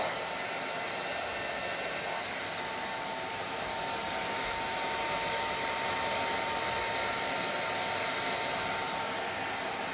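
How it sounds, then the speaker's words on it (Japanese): Hair dryer blows continuously, a loud, even, close-up whoosh with a thin steady whine running unchanged from start to finish, with no other sounds. "ドライヤーってね大変だよね。"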